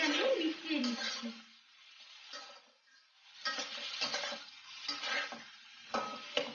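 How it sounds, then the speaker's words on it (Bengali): A spoon slowly stirs a spiced egg mixture in a pan, giving soft, intermittent scraping and light sizzling in short strokes separated by brief pauses. "ভালো করে আস্তে আস্তে আমি মিশিয়ে নিচ্ছি।"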